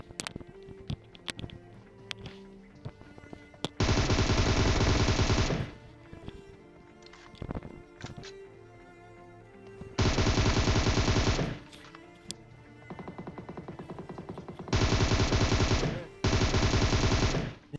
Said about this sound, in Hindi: अब देखो कैसे सिग्नेचर शॉट पेलते हैं यहाँ पे।